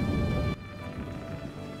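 Steady rain falls in a medieval fantasy video game, a dense hiss with a heavier rumble at first that eases into a softer, constant patter.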